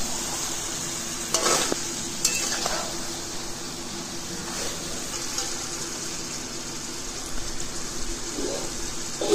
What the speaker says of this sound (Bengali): চিকেনটা আমার একটুখানি কষানো হয়ে গেছে, আরও কিছুক্ষণ হবে।